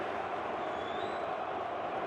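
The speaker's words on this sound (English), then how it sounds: "it really is a fantastic crowd in here today" A large football crowd of about 30,000 at Dynamo Dresden's stadium murmurs as a steady, distant wash of noise, with no distinct chants or cheers rising out of it.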